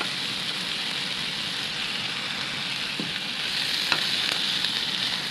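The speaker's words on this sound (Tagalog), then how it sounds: "Ilalagay na natin yung luya at saka bawang." Ginger and garlic fry in a pan with a steady, close hiss of hot oil, a dense continuous sizzle broken by a few faint clicks from stirring.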